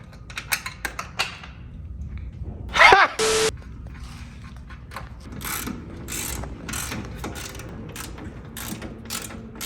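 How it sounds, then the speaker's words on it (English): A wrench ratchets as a long tube intake is bolted onto a Mazda RX8, giving a few quick clicking pulls and metallic clanks early on, followed by steadier mechanical clicking and handling noise. "So let me just bolt this on real quick."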